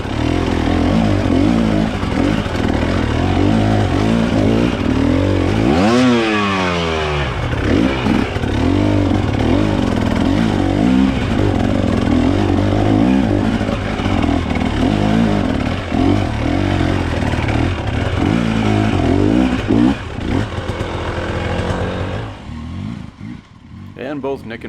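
A dirt bike's engine labours and revs continuously while climbing a steep single-track hill in Coldbrook, Nova Scotia, loud and close throughout, with voices talking over it.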